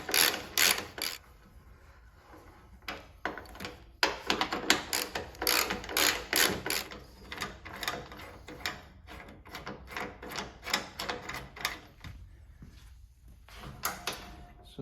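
A Torx T45 bolt on a Ford Ranger tailgate is undone with a ratcheting tool, giving many quick clicking runs and some metallic rattles close by, with short pauses between them and no talk.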